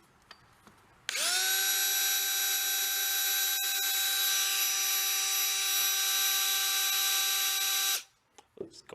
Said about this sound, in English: we'll try hooking it into a drill, see if we can spin it.